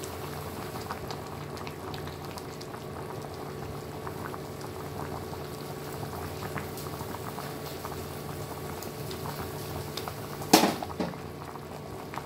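Shukto, a Bengali mixed-vegetable curry, simmers after a spoonful of ghee is stirred in: a steady, soft bubbling hiss throughout, with one brief clatter near the end.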